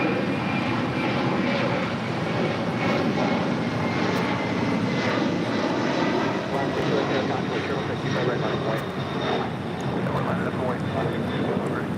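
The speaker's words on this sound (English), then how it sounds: "This is LATAM Airlines 2479 taking off to Lima, Peru on the 767-300 ER." A LATAM Airlines Boeing 767-300ER takes off from LAX bound for Lima, Peru, its jet engines giving a loud, steady broadband roar that holds for the whole stretch, with faint talk nearby.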